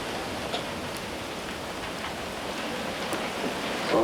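Steady rain falling outdoors at an off-grid rural property in New Zealand, a dense, even hiss of drops on surfaces throughout with no talking.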